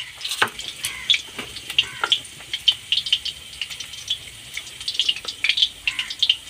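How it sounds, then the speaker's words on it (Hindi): Chillies frying in hot oil in a kadhai, with bursts of crackling, popping spatter and rattling spoon contact, close and irregular. "अभी कढ़ाई में हम लोग तेल डाल रहे हैं। अभी हम लोग इसमें मिर्चा डाल रहे हैं"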